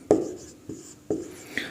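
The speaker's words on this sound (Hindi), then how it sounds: "तो यहां पे लिखते हैं" Chalk or marker tapping and scraping on a classroom board, four short distinct strokes in quick succession, fairly close with a faint hollow knock.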